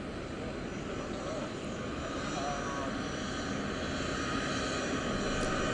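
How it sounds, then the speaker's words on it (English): Air Force One taxiing on a runway, a steady broadband jet engine roar that holds constant throughout at moderate distance. "But here comes Air Force One taxiing down the runway as we wait for President Biden"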